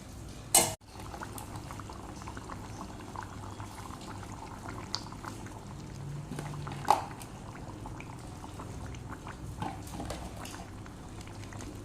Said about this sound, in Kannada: ಇವಾಗ ಮೀನು ಸಾರು ಕುದೀತಾ ಇದೆ